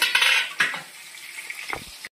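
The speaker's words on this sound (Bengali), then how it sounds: "আর ঢাকনাটা তুলে দিলাম, একটু নেড়ে দেবো।" Food being stirred in a pan right after the lid comes off, with spoon scrapes and clinks over a light sizzle as prawns rubbed with salt and turmeric cook; a few short, close utensil knocks, no voices.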